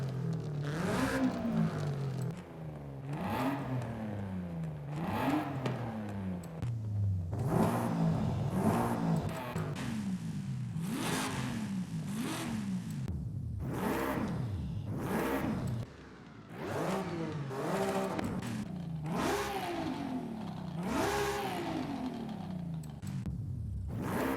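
A Subaru BRZ in Forza Horizon 5 revs repeatedly through its engine and exhaust, around ten sharp rising and falling rev sweeps with brief pauses, clear and close with a raspy flat-four character, no speech.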